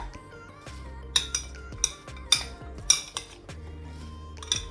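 Mango pieces being mixed with salt in a bowl for pickle, giving irregular metallic clinks and scrapes of a spoon against the dish over a low steady hum.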